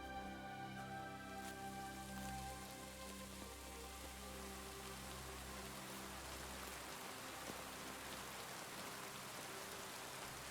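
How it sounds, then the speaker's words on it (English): Rain falls in the medieval world of the video game Kingdom Come: Deliverance II, a soft continuous patter on surfaces under a low, steady musical drone, quiet and even from start to finish. "oh my God, it's raining."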